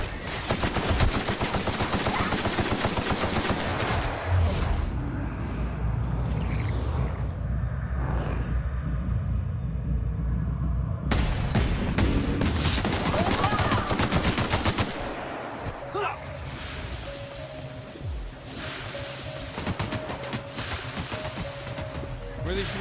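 Video game gunfire crackles in rapid bursts and sustained automatic volleys, loud and close, with a quieter stretch midway and a voice talking in places.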